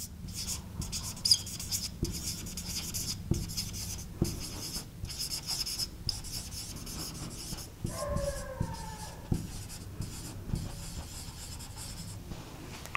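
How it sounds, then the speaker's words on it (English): Writing on a board for a control-systems lecture produces steady scratchy strokes and taps in short bursts with pauses, close and moderately quiet, no talking. "So let me just write that."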